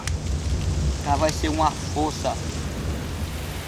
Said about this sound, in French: Comme souvent au Brésil, la pluie s'invite soudainement à la soirée.